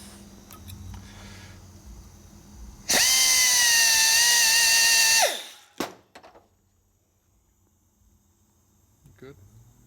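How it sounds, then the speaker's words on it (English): A power grinder bites into a metal part during clutch and primary repair on a 1972 Harley-Davidson XL Ironhead Sportster bobber. One loud, shrill burst of grinding lasts about two seconds before it cuts off, followed by a few clanks and quiet shop noise. "Okay, grind a little deeper"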